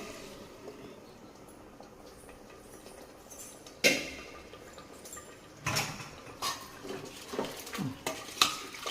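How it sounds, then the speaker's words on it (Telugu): Pre-cooked chole chickpeas with coriander, mint and curry leaves going into a pan of masala, heard as a quiet low simmer followed by several sharp metallic scrapes and clanks of a spoon against the pan. "కొత్తిమీర, పుదీనా, కరివేపాకు వేసుకొని ముందుగా ఉడికించుకున్న చోలే అందులో వేసుకోవాలి"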